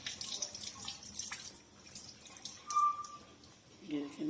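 Poppy seeds are washed in a bowl of water, with quiet, intermittent sloshing and dripping as the seeds are swirled around, heard close and faint.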